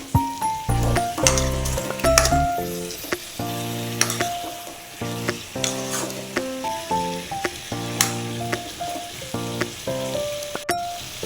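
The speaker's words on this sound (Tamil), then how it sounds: "இப்போ நம்ம க்ளீன் பண்ணி வச்சுருக்க சிக்கனை போட்டுக்கலாம்." Chicken drops into hot oil with onion and green chili and sizzles in a pan, a bright frying hiss broken by repeated stirring scrapes and clatters, set against a rhythmic musical backing with no talking.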